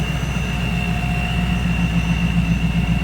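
Supercharged 1994 Pontiac Firebird Trans Am 25th Anniversary V8 idling in the engine bay: a steady, close, loud low rumble with a constant high supercharger whine over it.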